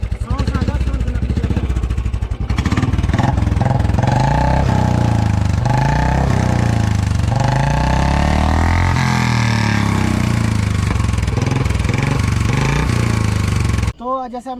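A Royal Enfield Standard 350 motorcycle engine idles with a deep, steady thumping rhythm, loud and close, with occasional small throttle blips before it cuts off abruptly near the end.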